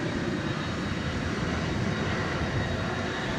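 A UPS MD-11 airliner's engines roar steadily at night at an airport, a broad, continuous jet rush at moderate distance with no talk.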